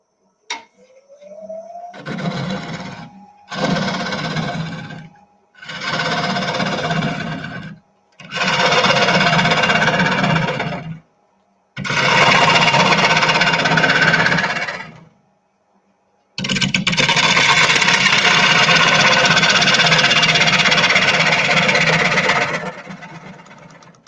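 Wood lathe cutting a turned piece to its final wall thickness, a run of separate tool passes that grow longer, each a harsh scraping hiss over a motor hum with short silent gaps, ending in one long steady cut.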